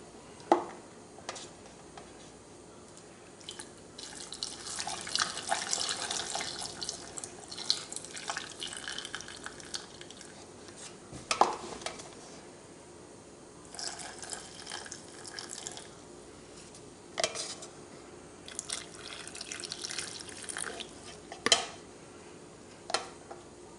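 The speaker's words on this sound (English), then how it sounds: "Let me pour it this way." Brine poured into jars while making pickled sausage, liquid trickling and splashing in uneven waves with occasional clinks and drips, fairly faint and close, with no one speaking.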